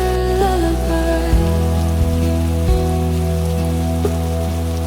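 Soft rain falls steadily on a surface, a continuous gentle patter with scattered individual drops, mixed with a low sustained musical drone.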